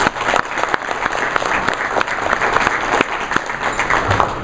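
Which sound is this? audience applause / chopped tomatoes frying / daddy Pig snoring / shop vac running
audience applause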